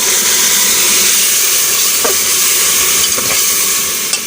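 Masala spices sizzling loudly in a hot pan over a high flame as water is added for an aloo gosht mutton and potato gravy, a constant close hiss and crackle.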